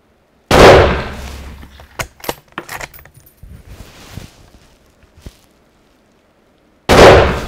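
Two loud, sharp rifle shots ring out about six seconds apart at a shooting test of a Steiner Ranger 4 scope, with scattered metallic clinks and rattles in between.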